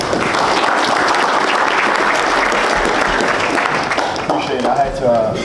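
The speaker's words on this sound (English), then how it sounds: "I need 3 claps." Seminar audience clapping, a loud, dense burst of applause that holds for several seconds before thinning toward the end, where a voice briefly speaks over it.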